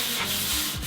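Block sanding lightweight skim-coat filler on a Japanese car fender produces a loud, close, raspy abrasive scrape in two quick back-and-forth strokes.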